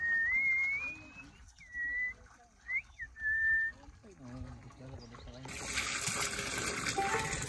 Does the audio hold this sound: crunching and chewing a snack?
no